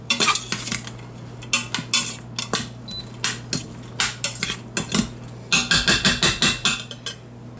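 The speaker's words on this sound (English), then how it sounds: "I'm just going to saute this for a bit here" Chili ingredients sauté in an Instant Pot as a utensil scrapes and knocks against the metal pot in quick, irregular strokes, with a steady background hum and no talking.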